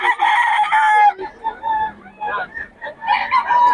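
A rooster among chickens brought to a market for sale gives one loud, strained crow lasting about a second, followed by voices talking and more fowl sounds nearby.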